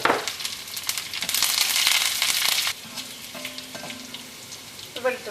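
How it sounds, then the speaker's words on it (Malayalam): Curry leaves and garlic hit hot oil with dried chillies for rasam, giving a loud burst of sizzling and frying that settles into a quieter steady crackle with light stirring. "ഇതിലേക്ക് നമുക്ക് വേപ്പിൻ്റെ ഇലയും വെളുത്തുള്ളിയും ചേർക്കാം."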